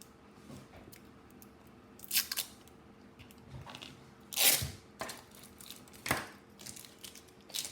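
Scissors snip through taped cereal box cardboard, a handful of sharp, crisp cuts spaced irregularly over quiet room tone, with soft crinkling of the tape and board between strokes, close to the listener.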